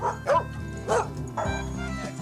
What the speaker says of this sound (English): Then we got this bulldog here.